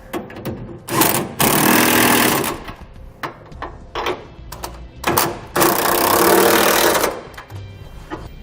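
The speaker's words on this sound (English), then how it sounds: "Now we'll tighten down our side plate hardware." Power tool, likely an impact wrench, tightening side plate hardware on a TorkLift SuperHitch Original trailer hitch receiver, heard in two long loud bursts with several short rattling blips between, close and without talk.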